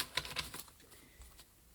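A deck of tarot cards being shuffled once, a quick burst of crisp riffling clicks in the first half-second that fades into quiet room tone.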